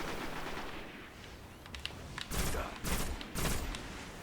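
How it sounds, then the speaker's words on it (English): Several heavy, separated rifle shots crack out in Destiny multiplayer, with three or four loud reports coming after a quieter stretch. "I haven't used the sniper rifle in multiplayer yet."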